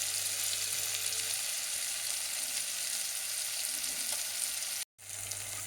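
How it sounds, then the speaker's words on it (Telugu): Food sizzles steadily in a pan as salt is added while preparing a bagara rice and mutton meal. The sound is a constant, fairly soft frying hiss, cut by a brief silent gap near the end, with no talk. "ఉప్పు వేసుకొని వేయించాలి"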